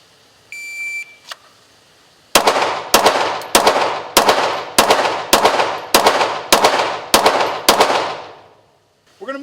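Ten sharp handgun shots in a training drill, each a loud close crack with a ringing decay, fired in a steady quick rhythm after a shot-timer beep, then quiet.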